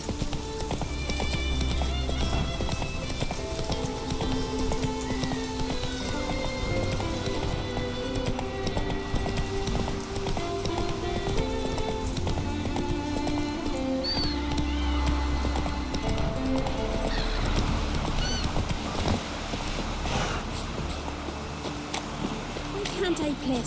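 Hooves gallop in a steady clip-clop through The Witcher 3 while a horse whinnies, with game characters talking over the ride and background music running underneath.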